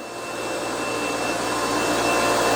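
A vacuum table's suction pump runs steadily in a workshop, a loud continuous whirring hum with a constant tonal drone that holds level throughout, no voices over it.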